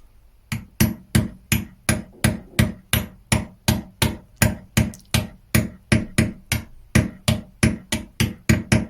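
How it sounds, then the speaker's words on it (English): A hammer taps a hex socket into an LED flashlight body during a switch repair, about two dozen sharp metallic knocks in a steady, quick rhythm, close and clear with nothing else heard. "Using a hex socket, and I will just slightly tap it."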